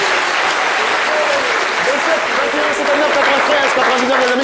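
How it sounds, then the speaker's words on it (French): A studio audience applauds loudly and continuously, a dense wash of clapping from start to finish with a voice briefly audible underneath. "Est-ce qu'on peut applaudir très fort pour soi-même?"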